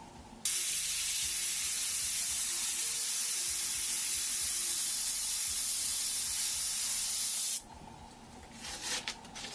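An airbrush sprays paint in one steady, loud hiss lasting about seven seconds, then cuts off abruptly, leaving a few faint handling clicks.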